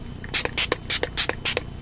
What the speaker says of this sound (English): So what I do is I usually have the concealer on my face and then I usually spray this on